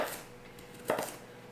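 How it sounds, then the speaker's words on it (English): A kitchen knife chops food on a cutting board during meal prep, giving a couple of soft, close taps with a brief sharper thud near the middle, quiet and with no talking. "I'm just going to continue chopping all these up"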